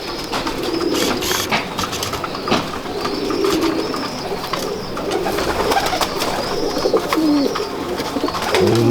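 Pigeons coo steadily in a loft or coop in South Asia, soft repeated low calls layered over a constant hum of birds and background bustle throughout.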